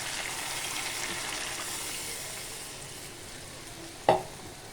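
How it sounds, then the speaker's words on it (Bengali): Water is added to a fish and potato curry in a hot pan, giving a continuous close sizzle and hiss that slowly fades, then ends with a sharp clack near the end. "এখন আমি পানি দিয়ে দিই"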